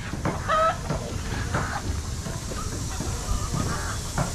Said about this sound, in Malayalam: ഈ ഒരു ഏരിയ ഫുള്ള് കോഴിയാണ് കോഴിയും താറാവുക